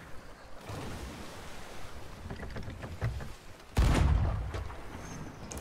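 In the video game Sea of Thieves, over a steady wash of water and wind, scattered muffled cannon pops lead up to one loud, heavy cannon boom near the end.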